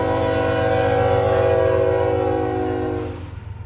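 CSX freight train led by locomotive 3242 moving southbound on the Henderson Subdivision, a loud steady rumble with sustained engine tones close by, fading slightly at the end.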